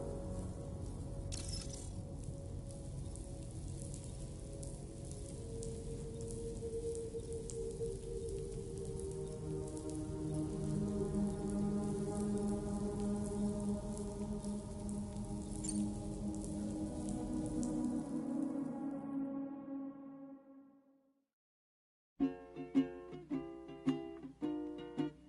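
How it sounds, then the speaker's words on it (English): Rain falling in the video game Death Stranding 2, a soft steady patter of drops with a low rumbling bed and faint tonal music, fading out before a brief musical sting. "Raindrops are falling on my head"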